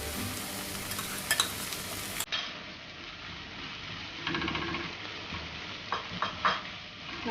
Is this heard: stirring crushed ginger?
yes